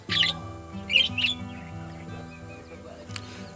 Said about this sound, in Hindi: बहुत ये तोते हैं, मेरे ख्याल से ऑस्ट्रेलियन या लव बर्ड है।